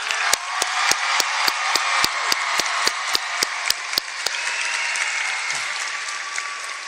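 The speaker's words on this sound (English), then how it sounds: "Let's give a round of applause for class of 2025" A graduation audience applauds the class of 2025 at the South Charleston High School commencement, with dense clapping that fades out after about four seconds. Sharp, evenly spaced loud taps cut through the applause, like a regular percussive beat.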